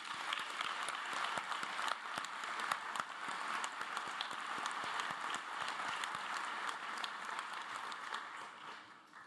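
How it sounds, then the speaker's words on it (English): A graduation ceremony audience claps steadily in a large hall, a dense, even wash of applause from many hands that holds at a constant level throughout. "Let's take a moment to give them a round of applause."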